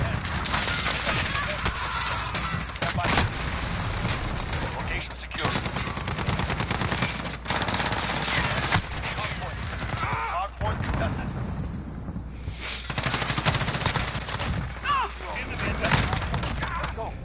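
Sustained gunfire in Modern Warfare, long dense bursts of rapid shots broken by brief pauses, loud and close throughout, with a voice talking over the shooting.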